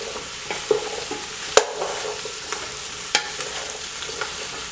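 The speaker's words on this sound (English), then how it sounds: "You just want to sweat it down a little bit." Vegetables for vegetable soup sweat in a pot with a soft, continuous sizzle. A few sharp clicks and knocks of a spoon against the pot come through, the pot sounds close, and no one speaks.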